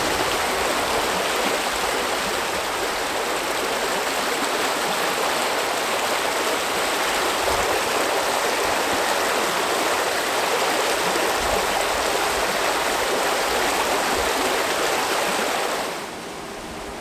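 A waterfall on a river in the Yorkshire Dales in winter roars as a steady, dense rush of water, loud and close, holding constant until it drops away sharply near the end.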